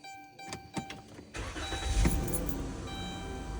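A Chrysler Town & Country minivan engine cranks with a few quick starter pulses, then catches and settles into a steady, close idle.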